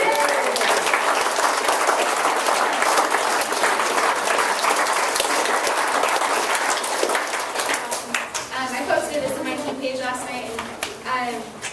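A seminar audience applauds loudly and steadily, dense clapping filling the room for several seconds before thinning out as some voices and cheers come through near the end.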